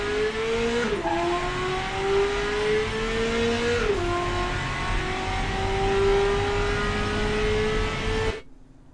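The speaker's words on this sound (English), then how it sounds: "you will see that this engine is pulling real hard" Car engine in the Automation game, a 1982 Marina Flare MkIV, accelerating hard with a loud, steady rising drone that climbs through gear changes, then cuts off abruptly at the end.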